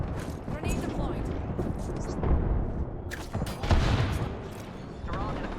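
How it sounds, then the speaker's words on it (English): A grenade goes off in the battle game Apex Legends: a heavy boom and a second blast rise over continuous gunfire and game clutter, with an in-game voice talking. "Grenade deployed."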